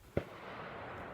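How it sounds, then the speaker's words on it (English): A single gunshot cracks once from duck shooters on the far bank of a river, muffled and distant, followed by a steady outdoor hush. "Probably hear the gunshots there on the far bank, some people shooting ducks."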